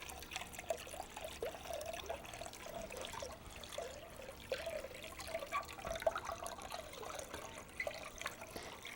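Water is poured into a vinegar mixture to make a pickling brine for vegetables, a steady faint trickle and splash running continuously at close range.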